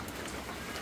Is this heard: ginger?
no